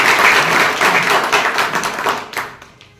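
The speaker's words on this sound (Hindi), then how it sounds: "तालियां बजाकर स्वागत करते हैं।" Audience at a Lineman Day ceremony breaks into dense applause welcoming a guest speaker, loud and continuous at first, then thinning into scattered claps that fade toward the end.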